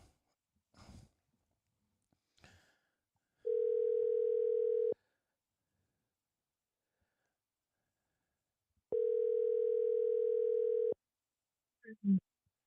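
Two long, steady telephone ringback tones sound loud and clear, the first about one and a half seconds and the second about two seconds, separated by silence, with brief faint rustles and a breath around them.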